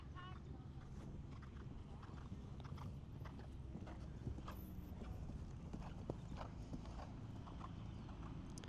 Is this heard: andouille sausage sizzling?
no